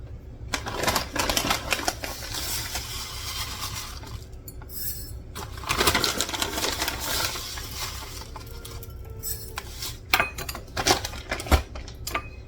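Dry corn grits poured from a cup into a glass jar make a steady granular rattle, with light clinks against the glass coming and going in bursts.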